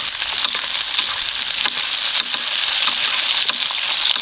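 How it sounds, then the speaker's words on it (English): Steak fries in a hot pan while being basted with butter, giving a loud, steady, close sizzle with faint clinks and scrapes now and then. "So I'm basting it with some butter. So this hot fat as well is also cooking the steak,"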